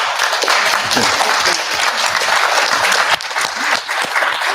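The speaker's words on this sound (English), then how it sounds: "give this young lady a round of applause" Sustained loud applause from a crowd, dense steady clapping that continues throughout, with faint voices underneath.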